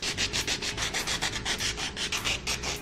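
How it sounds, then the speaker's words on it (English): Nail buffer rubbing the shiny top coat off gel polish, a close, steady rasping scrape in quick back-and-forth strokes, repeated rhythmically with no talking. "I'm gonna start off by taking this buffer and basically, oh, I hate that sound, just taking off the shiny coat."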